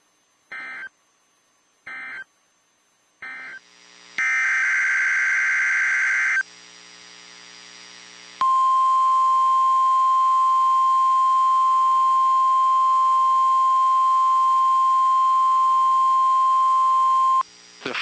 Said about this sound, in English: This is a test of the Noaa Weather Radio warning alarm device and emergency alert system.